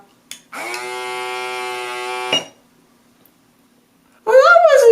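An EZ Injector home mesotherapy device held flat against the skin of the cheeks and chin gives off a steady electric buzz lasting about two seconds, loud and close, followed by a pause and then a brief burst of voice.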